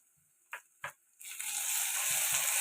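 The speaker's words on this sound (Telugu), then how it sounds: "ఉల్లిపాయలు ఎలా ఫ్రై అవుతున్నాయి కదండి, ఇందులోకి అల్లం వెల్లుల్లి పేస్ట్ వేస్తాం." Onions fry with ginger garlic paste in a pan, a steady close sizzle swelling in after a couple of soft clinks and continuing alone to the end.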